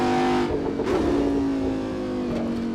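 Audi R8 V10 engine in the Assetto Corsa racing game, revving high in second gear with a steady, loud mid-pitched drone that dips slightly and holds, close and continuous with no talk.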